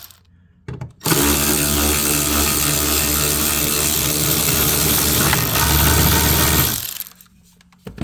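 A power driver whines continuously for about six seconds, close and loud, spinning T25 Torx screws out of a 2011 Chevy Malibu door panel, with quiet pauses before and after.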